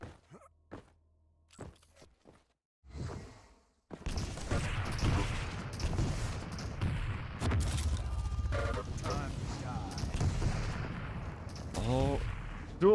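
Weapon fire and explosions in a fast arena shooter match with rail and light guns, a dense, loud stretch of shots and blasts after a few sparse clicks at the start, with a commentator talking over it.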